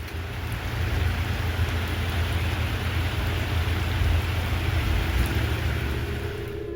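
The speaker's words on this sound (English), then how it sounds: "It's like heavy rain outside." Heavy rain falling outdoors on a cold, wet, grey day in an old mill town at the edge of the moors, a steady dense hiss with low rumble, constant and fairly loud throughout with no voices.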